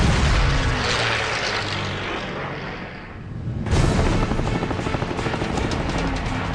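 A Messerschmitt 109 fighter shot down and trailing smoke, heard as a loud, rough engine roar that fades and dips briefly, then surges back in a harsh, buzzing rush; no voices.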